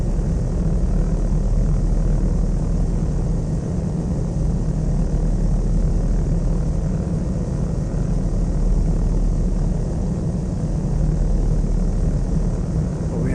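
Propeller aircraft engine in the flight simulator game Flight Sim World, a loud continuous droning rumble holding steady throughout, no voices over it.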